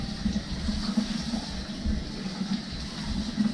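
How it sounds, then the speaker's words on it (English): Tap water runs steadily over raw meat in a kitchen sink during hot pot preparation, a close, continuous splashing gush with no talking. "we can run this under water, like so."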